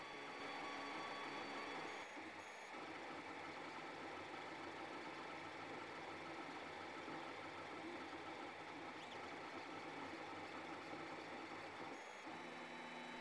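A Zonestar M8R2 3D printer printing a 150x20x22 mm cuboid gives off a faint, continuous mechanical whir with thin whining motor tones, pausing briefly twice.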